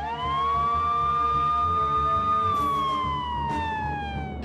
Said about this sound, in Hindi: सायरन बज रहा था